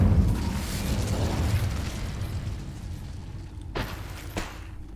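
A fiery spell burst from Hogwarts Legacy: a loud whooshing blast that swells and rumbles for a few seconds, then trails off, with two sharp pops near the end.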